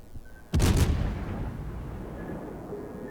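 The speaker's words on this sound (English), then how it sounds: "Keep firing AP at him. Totally missed those shots. Yamato just fired at me." A heavy battleship salvo booms once in a World of Warships clan battle, a sudden loud blast that settles into a long rumbling decay.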